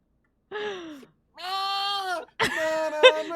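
A person's voice imitates a goat with three close, wavering, nasal bleats separated by short pauses, the last one breaking into a shakier, rougher cry.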